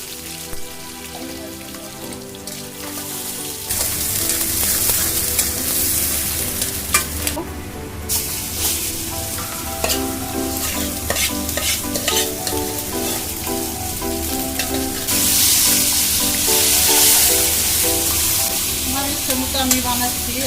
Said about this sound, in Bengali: এখন কড়াইতে একটু হালকা তেল বেরেস্তা করে এই উপকরণগুলো তেলের ভিতরে ছেড়ে দেব, দিয়ে কিমা বানাবো।